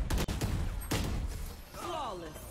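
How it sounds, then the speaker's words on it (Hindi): Gunfire in the Valorant video game: a few sharp, loud shots crack out early in a brief burst, followed by a swooping electronic effect, with game sounds and a voice mixed in. "ये कैसी गोलियां चला रहे हैं"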